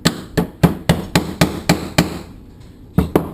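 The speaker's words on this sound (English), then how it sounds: "Give it a little tap with the hammer." A hammer taps a pin into an M4 airsoft gun: a close run of sharp metallic strikes in an even rhythm, a short pause, then two more taps.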